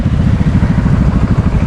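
A motorcycle exhaust running close and loud, a rapid pulsing rumble from the engine at steady revs, with no voices.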